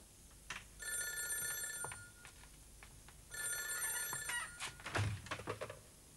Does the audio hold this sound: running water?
no